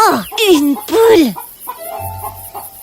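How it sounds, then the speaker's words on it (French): A hen from an animated French fairy tale gives a couple of sharp, squawking clucks up close, followed by softer, quieter clucking sounds against a light background. "Oh, une poule!"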